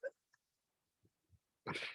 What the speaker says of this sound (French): Il y a quelqu'un qui tousse?